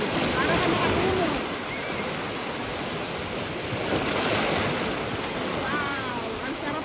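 Sea waves wash steadily onto a shore in Egypt at sunrise, a continuous close roar of surf with gusty wind buffeting the microphone throughout.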